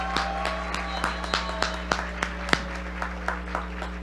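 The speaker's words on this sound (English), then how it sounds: "Please join me in applause." Scattered audience applause at an undergraduate commencement ceremony: individual claps ring out sparsely and unevenly, fairly distant and moderately quiet, over a constant low electrical hum in the hall.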